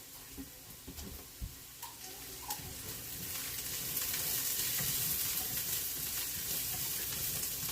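Celery sizzles and fries in a pot for turkey soup, a steady crackling hiss that grows slightly louder midway, with occasional stirring clinks near the start.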